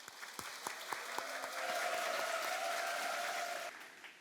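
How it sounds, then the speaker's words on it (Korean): An audience at a Shincheonji church Bible conference in Uijeongbu, Korea, breaks into sustained applause to welcome a speaker. The clapping swells, holds steady and then fades out, with a faint voice and tone beneath. "큰 박수로 모시겠습니다"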